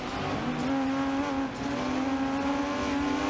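1980s Porsche and Ferrari race cars in a racing video game, engines holding a steady high drone as a pack of cars runs together, loud and continuous without talk.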